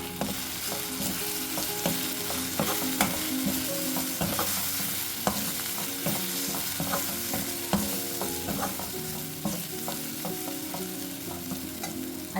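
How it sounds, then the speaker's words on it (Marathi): Coriander-cumin powder spices being stirred into methi dal in a pan, with a steady close sizzle and repeated scraping of the spoon, continuous throughout with no voices. "धणे जिरे पावडर आता हे मसाले आपण घाटून घेऊया"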